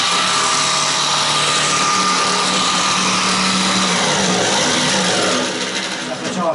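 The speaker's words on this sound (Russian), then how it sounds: "Сейчас возьмем лобзик и будем пилить." An electric jigsaw saws through a car trunk floor panel, a loud, continuous, close-up buzzing whine that holds steady and eases off slightly near the end, with no talk over it.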